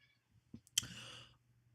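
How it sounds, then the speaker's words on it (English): A pet cat gives a single short meow up close in a quiet room, with a faint low hum behind it and a soft bump just before. "Oh, hello kitty."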